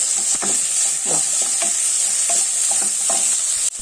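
Green chili and onion fry in a pan, a constant hissing sizzle broken by repeated scraping stirs, close and fairly loud with no talking.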